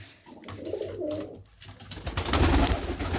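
Pigeons coo nearby in a loud, throaty rolling call repeated several times, with rustling and movement in between and no talking.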